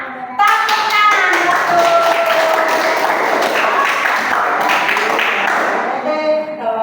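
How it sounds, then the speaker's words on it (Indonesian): A classroom of children clapping hands together, a dense, loud burst of applause lasting several seconds with voices mixed in. "Tepuk tangan."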